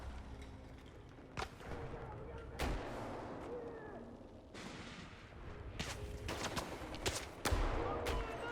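Gunfire in a video game: sharp shots crack at irregular intervals over a rumbling battlefield background, some near and loud, others fainter, with voices talking in between.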